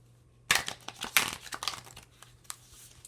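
Crisp papery shuffling and riffling of an oracle card deck, a quick burst of rustles that tapers off into scattered soft taps.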